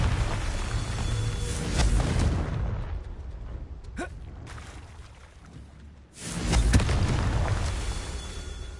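A Confringo fire spell goes off in Hogwarts Legacy as a deep rumbling blast that fades into a low roar. A second heavy boom hits near the end, both loud and close.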